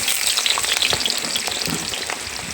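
Sliced onions dropped into hot oil, a steady close sizzle with crackling pops throughout and no talking.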